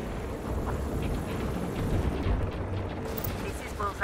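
Sustained gunfire and artillery rumble from Tom Clancy's EndWar, a dense low roar of battlefield shooting and booms running throughout at moderate loudness.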